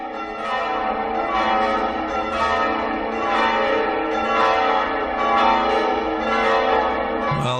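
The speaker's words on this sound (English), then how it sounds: "The pealing of bells, and in this case, St Michael's in Chagford." Church bells peal at St Michael's in Chagford, a steady, ringing sequence of overlapping bell strokes in a repeating rhythmic pattern, loud and resonant with no talking.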